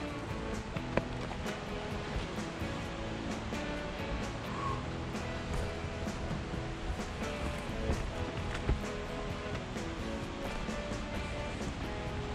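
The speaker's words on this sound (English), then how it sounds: "You can hear maybe a waterfall just off to our right." A waterfall near Blanca Lake rushes as a soft, continuous broadband wash with faint scattered taps and clicks, steady and fairly distant.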